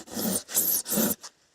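Wood pieces being cut during a construction build, heard as three harsh, loud rasping strokes in steady rhythm, each about a third of a second, followed by a short fourth stroke and then silence.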